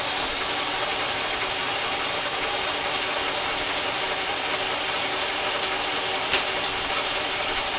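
A lathe runs a dry pass with an auto retract threader, a steady dense mechanical whir and gear rattle throughout, with one sharp click near the end, no voices.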